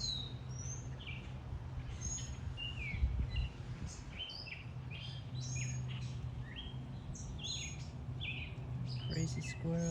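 Bird chirps in a backyard garden, a scattering of short, high, bright calls repeating throughout over a steady low hum of background noise, moderately distant and fairly faint.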